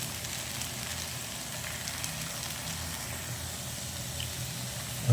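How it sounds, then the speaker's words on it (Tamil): Potatoes frying in a pan for Potato 65 fry masala, a steady close sizzle and crackle of hot oil running continuously without talk. "ஃப்ரை ஆகுது பாருங்கள்."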